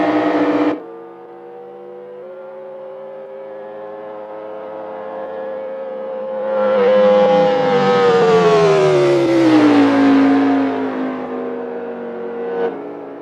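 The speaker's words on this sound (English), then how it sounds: "There's the TV4 with all the sounds of the cars." Race car engine drone plays through a TV speaker, a sustained tone that swells louder midway and then slides downward in pitch as a car seems to pass.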